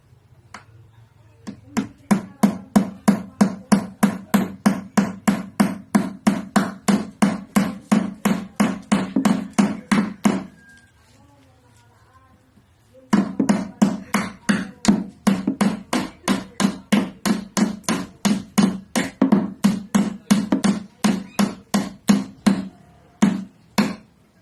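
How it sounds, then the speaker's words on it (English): Hammer driving a nail into wood in carpentry work, struck in two long, steady runs of sharp, evenly spaced blows, loud and close, with a short pause between the runs. "Insert the nail to the wood and start hammering the nail till the nail get in."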